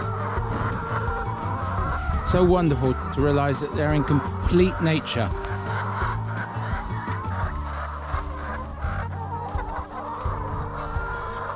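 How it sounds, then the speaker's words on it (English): Farm chickens in nest boxes at Uddeholm, Hagfors, Värmland, Sweden, cluck and squawk in a busy, close overlapping chorus while someone talks over them. "So wonderful to listen to these chickens."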